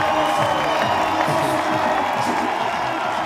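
Crowd at the Prague 2024 men's boulder final cheering Adam Ondra's flash, a loud mix of shouts, whoops and clapping, with a commentator's voice running over the din.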